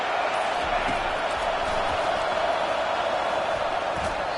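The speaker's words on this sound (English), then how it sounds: "This crowd rising up, sensing that its defense needs some help." A dense, steady roar from a football stadium crowd at a Purdue vs WMU game, holding at a loud, constant level throughout with no clear peaks or isolated voices.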